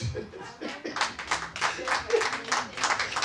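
Rhythmic clapping from a congregation during a church service, a run of close, fairly loud claps with voices mixed in beneath.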